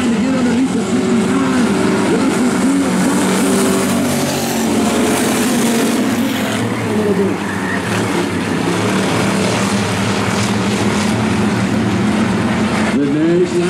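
Stock V8 race cars roar around a dirt track during a heat race, a loud continuous engine drone with rising and falling revs, and a commentator talking over it.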